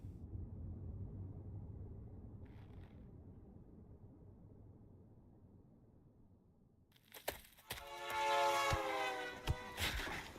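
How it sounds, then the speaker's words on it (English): A train horn or whistle from the video game Pathologic blares loudly near the end, preceded by low rumbling ambience and a few sharp knocks. "him making the train noise as he runs into people"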